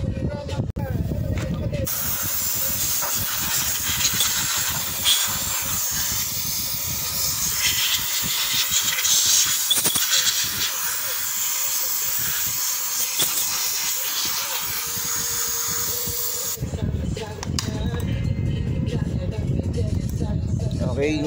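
Pressure washer spraying a Honda Click scooter during a cleaning, a loud sustained hiss running nearly the whole time, close, with brief stretches of talk at the start and end.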